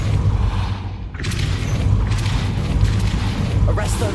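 A Depulso spell is cast in Hogwarts Legacy, a booming magical blast with a thud that swells and rumbles briefly over steady game music and ambience.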